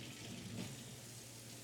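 Cold tap water runs steadily in a kitchen sink while raw chicken is rinsed, a faint continuous wash of splashing without speech.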